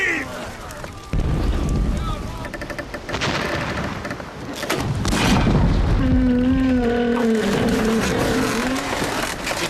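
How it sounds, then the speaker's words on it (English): Heavy booming blasts and rumble from a sailing warship's cannons firing double-shotted, loud and close, followed by a sustained low roar with shouting voices over it. "Did you feel it? When the guns fired."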